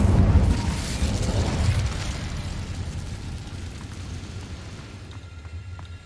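The Incendio fire spell from Hogwarts Legacy bursts with a heavy, loud, booming whoosh that rumbles and slowly fades over several seconds, with no talking.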